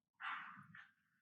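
A dog barking indoors during a casual podcast call, one loud bark followed by a shorter second yelp trailing off, heard alone without talk.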